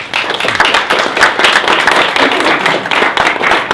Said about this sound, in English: So I'd like to give all three of them a massive round of applause.